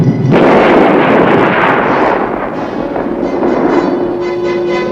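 A supersonic surface-to-air missile is launched at a US Army air defense site, a sudden loud roaring blast followed by a sustained, rumbling rocket roar that continues steadily for several seconds without any voices.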